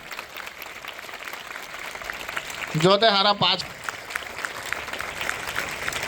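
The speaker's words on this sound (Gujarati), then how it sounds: "તો આપણે પોતાના માટે એકવાર જોરદાર તાળીઓનો ગડગડાટ થઈ જાય." An audience at an Ambedkar Jayanti celebration in Kalwada, Valsad, claps in a loud, sustained burst. A brief voice rises over the crowd partway through.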